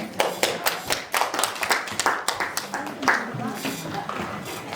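An audience in a church academy lecture hall bursts into brisk, loud clapping that carries on for several seconds, with a voice speaking over the applause.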